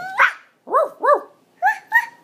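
A baby imitates a dog, producing five short high-pitched woof-like yelps in a loose rhythm, close and clear.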